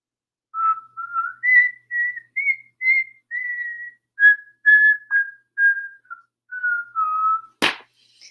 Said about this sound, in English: Remember the sound of that recorder?